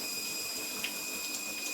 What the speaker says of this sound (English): It's still letting out quite a bit of water.